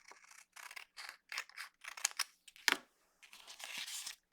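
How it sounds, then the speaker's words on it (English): Scissors snip through paper to cut out a small tangram triangle, a close, quiet series of short crisp cuts with a rustle of paper in between. "Next thing I would do is cut off this triangle that has the grid inside."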